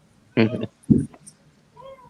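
A person imitates a cat, giving two short nasal meows in quick succession and then a faint, drawn-out mew, close and otherwise quiet.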